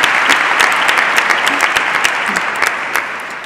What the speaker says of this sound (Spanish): ¿Por qué nos aplauden?